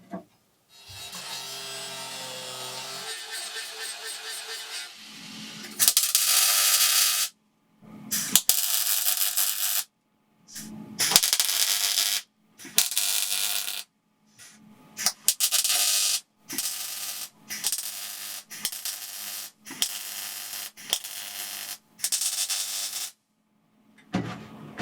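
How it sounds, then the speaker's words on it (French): Welding of a brake limiter bracket in the engine bay of a BMW E36 325i: a string of loud, close bursts of harsh crackling hiss, each lasting one to two seconds, separated by short silences, with no speech. "je vais pouvoir souder ma fixation pour le limiteur"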